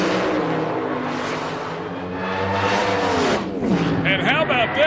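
Pro modified drag race cars launch down the strip at the 2006 IHRA Rocky Mountain Nationals, a loud, sustained engine roar that rises in pitch as they accelerate, heard under an excited announcer talking.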